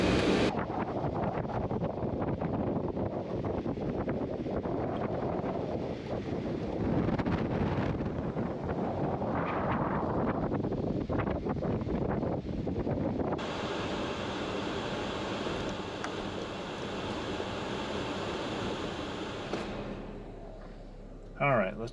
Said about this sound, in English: Ooh, dang, that wind is blowing out there.